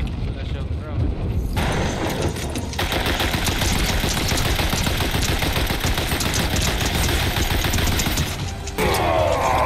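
Video-game gunfire keeps up as a loud, dense barrage almost without pause, with chattering impacts and mechanical clatter throughout.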